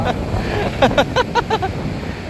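Big sea waves and wind roar around a fishing boat out at open sea, a continuous rough wash with gusts, while someone speaks over it in short bursts.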